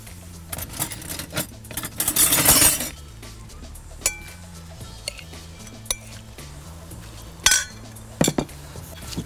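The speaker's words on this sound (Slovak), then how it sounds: "Teraz šalát premiešame." Fennel salad being tossed in a bowl, with clinks and scraping of utensils against the dish in short irregular bursts, over a low steady background hum.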